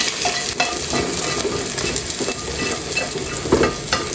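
Shallots fry in a pan with a dense, continuous sizzle, and a utensil makes occasional stirring clicks and scrapes. There is no talking.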